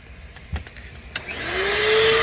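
A steam carpet cleaner switches on after a few handling clicks, its motor spinning up into a loud, steady whine and hiss close by.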